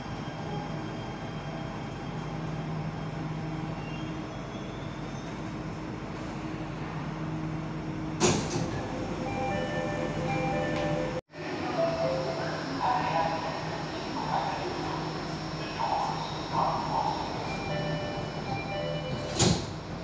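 Jakarta MRT subway train riding between Bundaran HI and Lebak Bulus, a steady hum and rumble of the car with tonal motor whine, a loud door thump near the middle, then chimes and faint talk over the running train.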